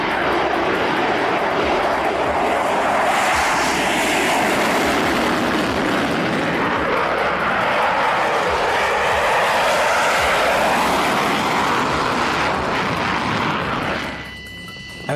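An Israeli F-15I Ra'am strike fighter jet roars past with a loud, broad engine rumble and hiss that swells and holds steadily before cutting off near the end.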